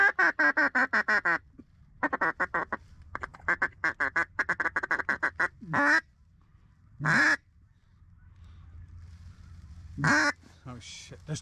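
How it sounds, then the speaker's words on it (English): Ducks quacking during a waterfowl hunt as a flock flies in, heard as rapid runs of loud, close quacks in two long bursts, then a few isolated calls spaced apart with quiet gaps. "Ducks coming back around."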